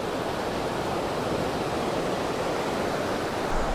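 Steady broadband wash of surf breaking on a beach as the tide comes in, a continuous close roar with no distinct pauses between waves, heard alone without voices.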